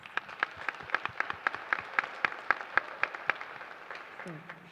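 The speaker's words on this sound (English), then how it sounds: "So give yourselves a round of applause." Sparse, rhythmic clapping at a 2019 county spelling bee, a string of sharp, evenly spaced claps from a small audience in a quiet hall, fading out near the end as a voice begins.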